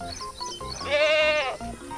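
Goats and sheep bleat loudly in a long wavering cry near the middle, with shorter bleats and farmyard noise around it.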